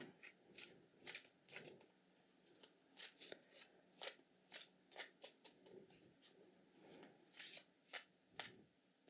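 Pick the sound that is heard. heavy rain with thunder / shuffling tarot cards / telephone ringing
shuffling tarot cards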